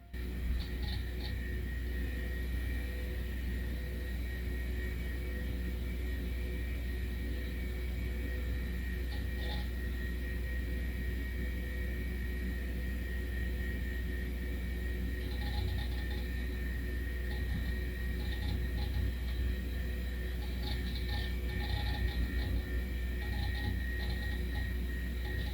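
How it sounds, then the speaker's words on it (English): Commodore Amiga A2000 hard drive spinning after power-on, a steady low hum and whine with faint mechanical ticks and seek chatter, continuous and fairly quiet, no voices. "You can hear that hard drive."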